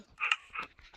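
A dog in a Minecraft game gives a brief, quick pant-like huff in two short breaths, fairly faint and alone.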